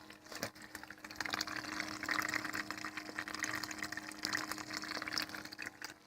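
Water gushes steadily through a mini cleanup sluice run on high while processing mountain prospecting material for gold, a continuous close rushing and splashing with a faint pump hum beneath and no talk.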